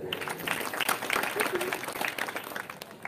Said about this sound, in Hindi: जो दोनों बोले सबके लिए तालियां हो जाए